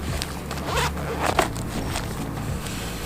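A zipper on a first-aid kit is pulled open in several close, loud raspy strokes, with a sharper burst partway through and no talking.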